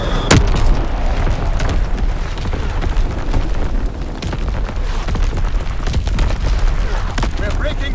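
Explosions and artillery boom through a Call of Duty WWII team deathmatch in the Ardennes Forest, with one sharp close blast followed by continuous rumbling barrage and scattered impacts, loud throughout, under occasional game voice lines.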